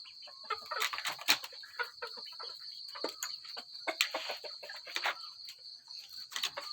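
Scattered clucks and short calls from fighting roosters, close by, with a steady high insect drone running underneath throughout.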